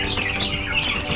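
Chickens on an Alaska homestead clucking and chirping nearby in a steady, busy chatter.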